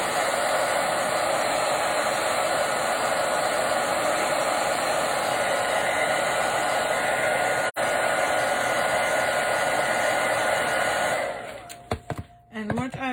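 A hair dryer blows steadily and loudly for about eleven seconds on stenciled Christmas glass, a broad continuous whoosh with a brief dip midway, then cuts off into quieter handling noises.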